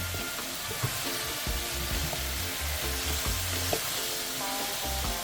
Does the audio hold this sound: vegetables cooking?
yes